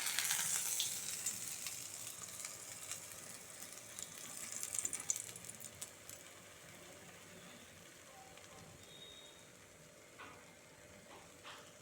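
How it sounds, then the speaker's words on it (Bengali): Pumpkin flower fritters sizzle in hot oil, a steady crackling fry that is loudest in the first seconds and then settles into a quieter simmer, with no talking. "এইভাবে সব কটা কুমড়ো ফুল আমি ভেজে নেব।"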